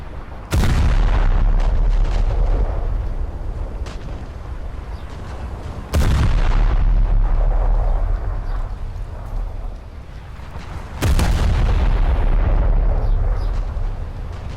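Six-inch naval guns firing in a naval combat video game: three loud, heavy booms at roughly five-second intervals, each followed by a long, rumbling roar that fades slowly, with no talking.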